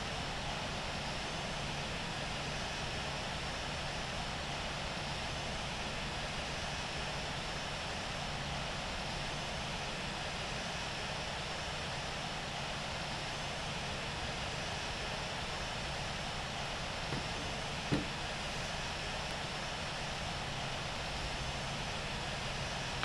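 An Air India airliner taxis in the Infinite Flight game, a constant broadband engine whine and rush holding steady and fairly loud throughout, with one faint click near the end.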